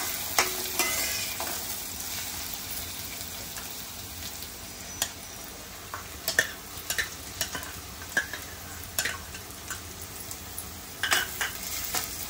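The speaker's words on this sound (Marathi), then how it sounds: "आलं लसूण ठेचून कांद्यावरती शिजवून घ्यायचं आहे" Ginger garlic paste frying with onion gives a steady close sizzle, punctuated by irregular sharp spatula clicks and scrapes against the pan; no talking.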